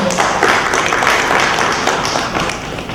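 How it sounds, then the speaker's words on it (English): Audience applause for a speaker at an education conference session, a dense, steady wash of many hands clapping that holds at full strength for about three seconds before easing slightly. "give a round of applause for Harry"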